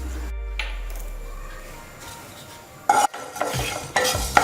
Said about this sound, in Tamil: இப்போ வெந்தயம் நல்லா வறுபட்டுருச்சு.